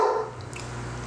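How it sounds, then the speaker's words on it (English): A pet dog barks once or twice at home in a kitchen where banana nut bread is being made, a short sharp burst near the start that quickly fades into quiet room tone. "that's my dog barking."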